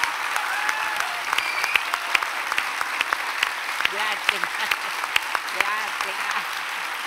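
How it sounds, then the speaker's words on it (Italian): A theatre audience at the Teatro Oscar gives warm, sustained applause for a guest, with distinct hand claps and a short spoken word over it. "facciamo un applauso caloroso."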